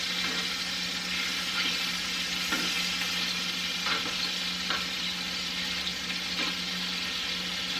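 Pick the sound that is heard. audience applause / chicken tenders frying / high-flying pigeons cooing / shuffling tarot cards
chicken tenders frying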